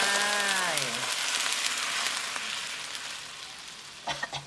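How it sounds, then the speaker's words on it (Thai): Water is poured into a pan where garlic and chilli are frying, setting off a loud hiss and sizzle that slowly fades. A few clinks near the end come from a utensil against the pan. "พอพริกหอมกระเทียมหอมเราเอาน้ำลงไป"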